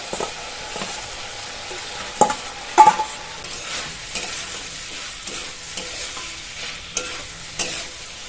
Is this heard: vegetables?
yes